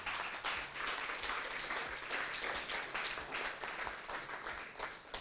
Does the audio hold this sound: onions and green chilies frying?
no